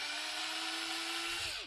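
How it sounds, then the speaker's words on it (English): Drilling with a 5/64 drill bit, a steady, close, high-pitched whine that holds evenly for the whole stretch and dips slightly at the end, with no talking. "I think it's a 5/64 drill bit."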